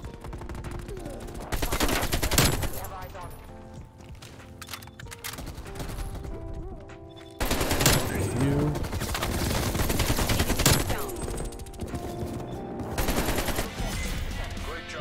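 An AK-47 with the Magnificence blueprint fires in a Call of Duty: Cold War gunfight tournament match: loud, rapid automatic bursts in two long stretches, broken by a brief quieter gap.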